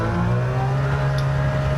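A modified turbocharged, front-engine, rear-wheel-drive 2019 Toyota GR Supra accelerates with a steady, loud engine drone and a rising whine, close and unbroken for a short moment.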